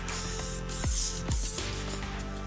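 TensorGrip L42 adhesive sprayed onto a Corian panel from a spray gun held 4 to 6 inches away, a steady close hissing spray with two brief louder swells over a constant background hum.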